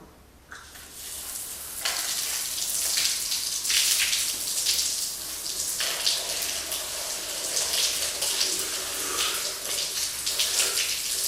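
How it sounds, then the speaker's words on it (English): A cold shower runs at full flow in a steady, loud hiss of spraying water that starts abruptly and continues alone without a break. "Put on the cold."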